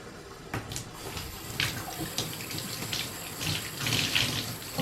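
Water streams steadily from a shower head onto a bathroom shower surface being rinsed after cleaning with a Dawn and vinegar mixture, a continuous close splashing wash with slight swells in intensity and no talking.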